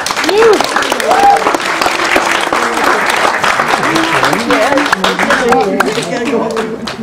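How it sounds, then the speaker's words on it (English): An audience applauds at a live stage show, steady dense clapping filling the room while a voice talks over it throughout. "Please give her a round of applause."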